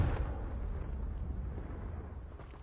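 A Confringo blasting spell erupts in Hogwarts Legacy, a loud rumbling explosion that starts sharply and then rolls on as a sustained low roar through the whole moment, with no voices over it.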